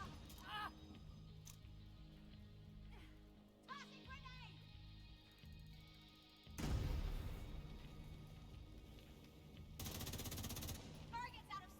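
Deployed turret in The Division 2 opens up in long, dense automatic bursts, loud and close, mixed with game voices and effects.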